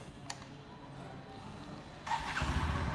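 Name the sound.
Bajaj Platina 110 Fi motorcycle engine starting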